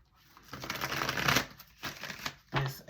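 Tarot cards being shuffled by hand, a few papery riffling bursts with short pauses between them, close and fairly quiet with no talking.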